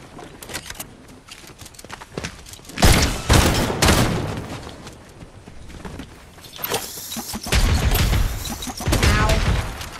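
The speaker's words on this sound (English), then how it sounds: "Oh, I'm getting shot at." Bursts of gunfire crackle through a video game firefight, with loud volleys around the third second and again from the seventh second onward, over a busy background of smaller shots and movement.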